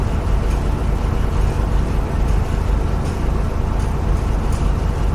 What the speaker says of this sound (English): You can hear the comforting sound of the motor.